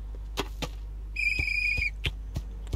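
In the video game Hello Neighbor, a clear, steady whistled tone holds for roughly a second mid-clip, set among sharp footstep-like knocks over a low hum.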